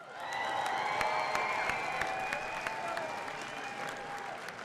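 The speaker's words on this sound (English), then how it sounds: "Boise, big round of applause." A crowd applauds and cheers at the Road to X Games Boise women's skateboard park qualifier, a steady wash of clapping with scattered whistles and shouts held at an even level throughout.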